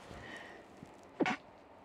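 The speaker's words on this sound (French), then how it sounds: "elle doit éternuer" A single sharp sneeze bursts out near the mic, brief and loud against a quiet indoor room with faint background hum.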